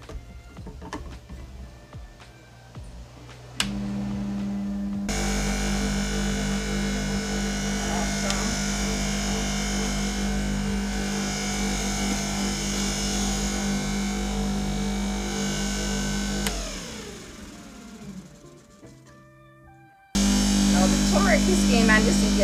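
A kitchen juicer grinds through pineapple and about an inch of ginger, a loud continuous motor whir that starts abruptly, runs steadily for several seconds, winds down, then kicks back on.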